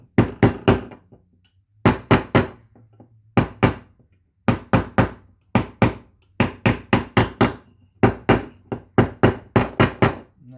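A seal is tapped into place on a GM 2.4 Twin Cam engine with sharp, close hammer knocks. They come in quick bursts of three to five taps, with short pauses between the groups, over about ten seconds.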